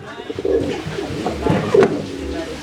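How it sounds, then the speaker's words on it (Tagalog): Pigeons coo close by in a small pigeon loft in Binloc, Bonuan, Dagupan City, Pangasinan, with two fuller throaty coo bursts standing out over quieter loft sounds. "May ibon, no?"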